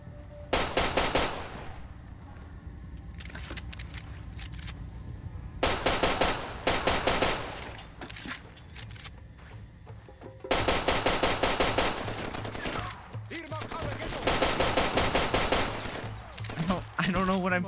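Automatic weapons in Far Cry 2 fire in long bursts of rapid, loud cracks, with pauses between volleys and some talk underneath.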